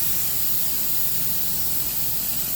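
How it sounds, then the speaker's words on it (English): Lysol aerosol sprayed into the airstream of a duct nozzle, one continuous loud hiss lasting the whole stretch without a break. "if I can get the Lysol in the airstream of my nozzle, I'll get some good, it'll send it all the way down"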